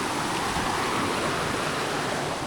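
Water running steadily through an old Dutch colonial-era pipe at Pondok Halimun, a continuous rushing flow heard close and alone with no talk.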